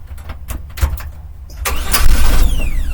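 A car engine cranks with a few uneven chugs, then catches briefly and roars louder in a rough, struggling attempt to run, close and loud.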